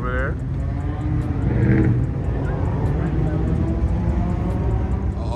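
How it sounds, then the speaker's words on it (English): A car does a burnout at a car meet in Albuquerque, New Mexico, with a loud, sustained engine roar and tire noise over crowd chatter, and people talk over it. "Got some burnout action going on."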